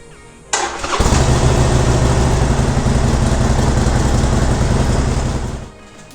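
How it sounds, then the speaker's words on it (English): A Harley-Davidson Forty-Eight Special motorcycle fitted with a Vance & Hines Fuelpak fires up with a sharp start, then settles into a loud, steady, throbbing idle close by for several seconds before cutting off. "the first thing you'll want to do after installing a fuel pack is to start the bike up"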